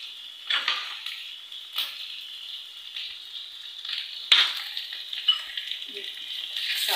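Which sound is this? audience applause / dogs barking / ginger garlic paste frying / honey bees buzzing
ginger garlic paste frying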